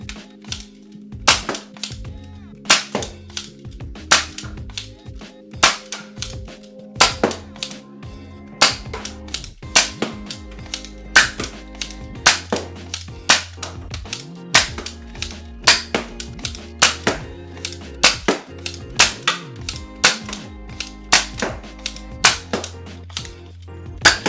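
X-Shot Kickback toy blaster shooting foam darts during a range test, a long series of sharp, loud snapping shots with quick mechanical clacks, fired in an irregular rapid rhythm, close up with no talking.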